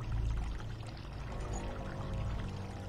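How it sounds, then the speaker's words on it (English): Water gushing out of a pipe in a video game, a loud, continuous rushing pour that stays steady and dense for about three seconds with no voices over it. "I got flooded out with water. Yeah. Water's coming out of it now."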